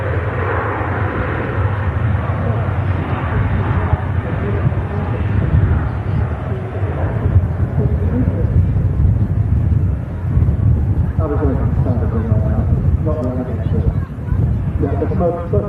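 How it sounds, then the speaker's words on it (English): A Ryanair jet climbing out after takeoff from Manchester Airport, bound for Prague, gives a loud, steady engine roar with wind buffeting, while people talk over it throughout. "Ryanair commences the climb"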